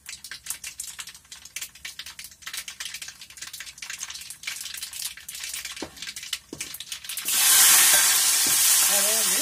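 Onions and split green chillies land in hot oil with mustard seeds and dal for brinjal curry. A utensil scrapes and stirs in the pan, then a loud, steady sizzle takes over near the end.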